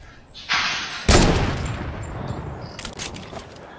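Two loud sniper rifle shots boom in a Fortnite match, one short and sharp, the second heavier with a long decaying rumble, followed by fainter crackling gunfire near the end.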